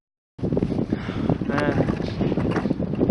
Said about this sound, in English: It's probably super windy in the audio